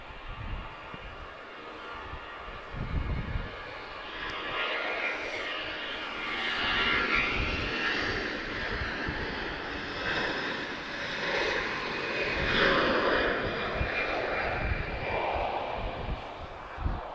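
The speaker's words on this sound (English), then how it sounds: "Nice evening departure from Air France" An Air France jet departs Lisbon Airport in the evening, its engine roar building into a broad, steady rumble that holds strong throughout, with faint talk now and then.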